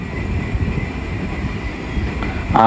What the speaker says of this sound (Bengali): আমাদের ট্রেন এখানে অল্প কিছুক্ষণের মধ্যেই স্টেশনে প্রবেশ করে প্রবেশ করবে